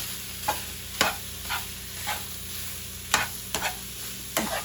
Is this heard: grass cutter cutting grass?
no